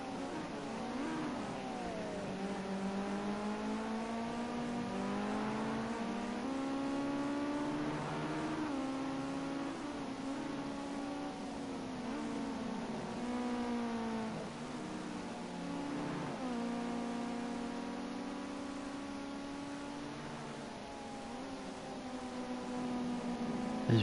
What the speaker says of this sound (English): Shockshaft really drifting the car through the Icon corner